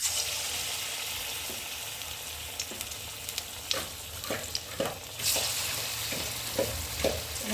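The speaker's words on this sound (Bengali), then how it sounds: "বড়াগুলো ভেজে নিচ্ছি।" Fritters (bora) fry in hot refined oil in a wok, a continuous sizzle broken by sharp spattering pops as pieces are dropped in one after another.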